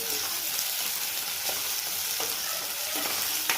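Ginger garlic paste sautéing in hot oil for brinjal bharit, a steady broadband sizzle with a few sharp stirring scrapes, close and continuous with no talk.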